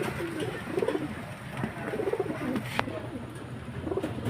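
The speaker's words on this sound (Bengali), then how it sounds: "এই যে ফ্রেন্ডস আরেক জোড়া পায়রা দেখুন ভালো কোয়ালিটির পায়রা" Murshidabadi Gribaz pigeons coo in soft repeated low phrases, close by, with a steady murmur of background noise around them.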